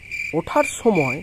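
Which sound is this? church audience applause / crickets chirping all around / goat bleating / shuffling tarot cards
crickets chirping all around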